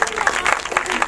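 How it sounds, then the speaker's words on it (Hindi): A congregation at a Sunday prayer meeting claps together in a brief, dense burst of many hands, close and fairly loud, lasting about a second. "ताली बजाएंगे परमेश्वर के लिए"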